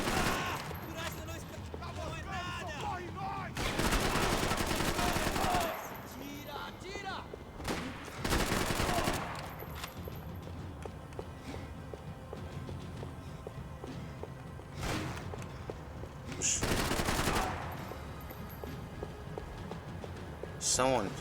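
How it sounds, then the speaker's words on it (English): Bursts of gunfire in the video game Max Payne 3, several loud broadband volleys of a second or so each standing out over continuous game sounds, with someone talking over much of it. "I don't know who's shooting me."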